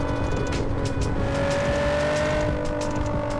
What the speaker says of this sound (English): I feel like this car might be a little too loud for y'all.